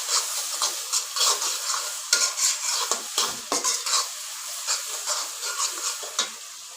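Broken dried red chillies frying in hot oil for a sweet pumpkin stir-fry, giving a steady close sizzle with repeated scraping stirs and light utensil clinks against the pan, no voices.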